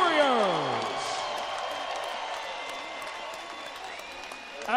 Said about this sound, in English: let's have a round of applause for these two welterweight warriors.